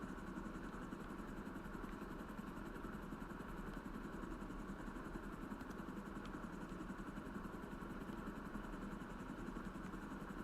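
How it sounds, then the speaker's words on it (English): A helicopter in Grand Theft Auto Online gives a faint, steady whirring drone with no change in pitch or rhythm throughout. "Helicopter, man."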